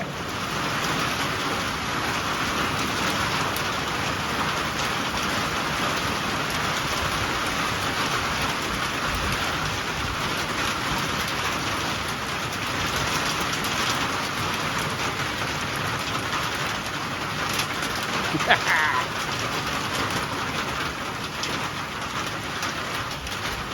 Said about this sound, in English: I can't do it in this rain